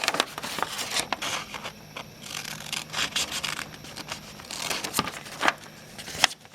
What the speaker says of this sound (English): So I'm going to cut this corner off.